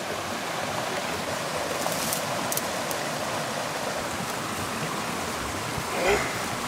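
Water gushes steadily out through the intake gate of an off-grid micro hydro system, a constant broadband rushing like a stream, with faint voices in the background.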